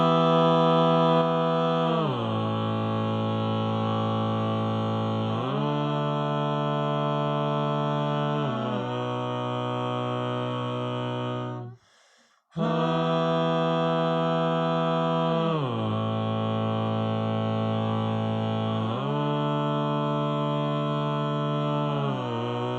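A choir sings a slow chord progression with a soprano line on top, sustained chords shifting every few seconds, a brief break partway through before the progression repeats, full and close with no talking.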